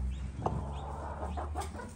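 Clucking from a chicken perched on a roof in a Turkish village yard, a few short soft clucks over steady low background hum, fairly close.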